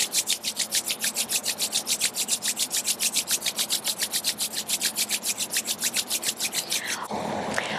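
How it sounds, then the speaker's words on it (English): Palms rubbed briskly together during a yoga session, a steady fast back-and-forth swishing with about forty even strokes, close and loud, ending in a softer rustle, no talking. "Rub your palms together."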